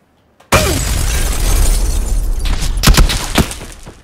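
A grenade blows up in a multiplayer shooter game, starting suddenly after near silence as a loud, close, rumbling blast. Crackling debris and sharp pops follow and fade over a few seconds.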